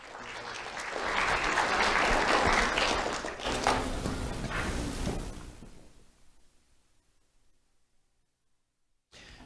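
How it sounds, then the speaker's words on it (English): Applause for a student honoree at a sheriff's office awards ceremony swells quickly, holds strong for several seconds, then tapers off into near silence. "Let's have a round of applause for Deshaud Woods."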